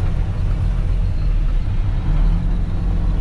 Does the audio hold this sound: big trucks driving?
yes